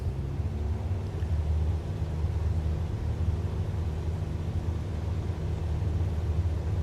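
A simulated aircraft engine at full throttle in Microsoft Flight Simulator gives a steady, dense low drone that holds at an even level throughout, with no talking over it.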